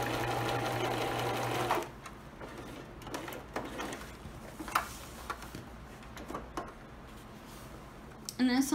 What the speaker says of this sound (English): I'm going to be sewing a 1/2 inch seam allowance